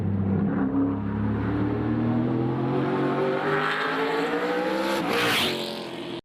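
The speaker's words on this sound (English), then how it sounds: "here's the short clip of one of their race cars testing." An SRX race car with an Ilmor engine of roughly 700 horsepower lapping at speed during testing, its loud engine note rising and falling steadily throughout with a brief surge near the end.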